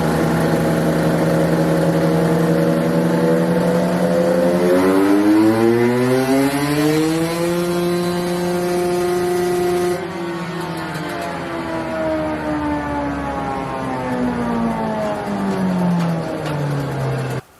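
A KTM/Husqvarna 150 TPI two-stroke motorcycle with a stock bike setup and reflashed ECU is held at wide open throttle, its engine howling steadily, climbing and then sagging in pitch, loud and close with no talk.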